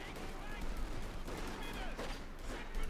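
MD42 machine gun in Company of Heroes 2, a faint rapid rattle of automatic fire mixed into busy battle noise, with a commentator talking over it.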